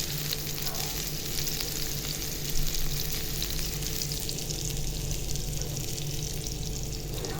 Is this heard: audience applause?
no